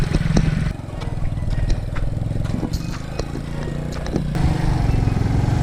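A motorcycle on a road on the way toward a shrine. Its steady engine drone runs throughout, rising and falling slightly, fairly close and loud, with faint voices and knocks mixed in.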